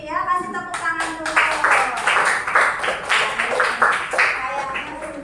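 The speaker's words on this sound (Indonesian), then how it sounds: "Ya kasih tepuk tangan dulu" Classroom applause from a group of students, a dense run of clapping that swells and carries on for several seconds, with voices mixed in at the start.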